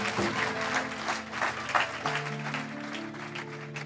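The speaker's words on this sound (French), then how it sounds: "On acclame le Seigneur" A church congregation applauds in praise of the Lord, sustained clapping that runs throughout alongside held musical tones.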